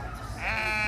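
A Greyface Dartmoor sheep bleats once at an agricultural show, a close, wavering call that swells in the second half over a steady low hum of background noise.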